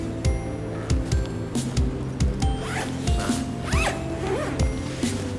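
Repeated zipper pulls open a Singer portable sewing machine bag, close up, in a series of short rasping strokes with quick bursts and brief pauses between them.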